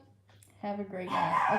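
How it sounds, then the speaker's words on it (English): A dog barks indoors at a homestead during a live chat, a few loud barks arriving after a short spoken phrase, with a person talking nearby. "I know you guys can hear the dog barking."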